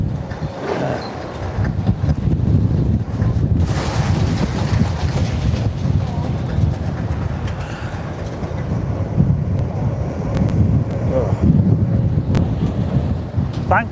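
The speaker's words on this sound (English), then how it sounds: "It really is starting to do my head in this wind." Strong gusty wind buffets the microphone at an old police station demolition site in Blackpool, a loud continuous low rumble that swells and eases throughout with no talk.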